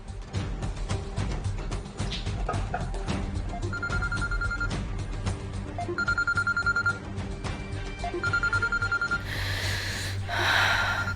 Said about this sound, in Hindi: डैड का फोन है।